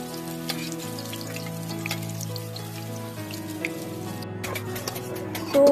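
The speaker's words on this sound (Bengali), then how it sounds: "দুপুরে ফুলকপির পকোড়া খাবে তো এই যে ভাজছিলাম" Cauliflower pakora fritters fry in a pan with a steady, continuous sizzle and crackle, with no talking. Faint steady tones sit underneath throughout.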